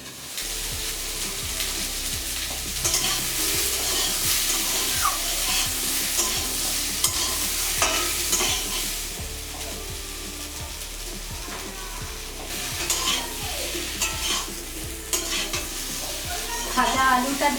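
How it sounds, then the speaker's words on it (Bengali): Stalks frying with green chili paste in a pan for a fish curry, a steady loud sizzle with repeated scraping and stirring of a utensil against the pan throughout. "আবার ডাঁটাটা দিয়ে ভেজে নিচ্ছি।"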